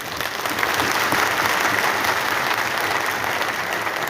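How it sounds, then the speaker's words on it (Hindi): Sustained audience applause at a Hindi-language public speech rally, dense and steady clapping from a large crowd throughout, fairly loud and close, with no speech over it. "ये ताली आपने मेरे लिए बजाई है या जाति की विदाई में बजी है?"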